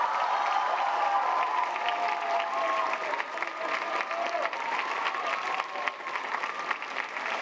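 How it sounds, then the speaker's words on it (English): A large crowd of young people at an interreligious meeting in Singapore claps loudly and continuously, with scattered cheers mixed into sustained applause. "Can we give him a huge round of applause and cheer?"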